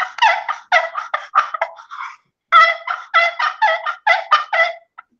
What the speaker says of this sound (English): But it's a turkey call.